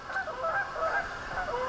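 Several geese honking together at moderate distance on open land at sunset, overlapping calls in a steady chatter, fairly faint, with no talk.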